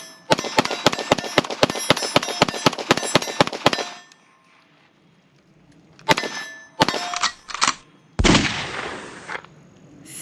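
A SIG Sauer P320 X5 Legion pistol fires a rapid string of about fourteen sharp, loud shots in speed shooting, then a pause and a few more close, ringing shots, with metallic clangs of steel targets.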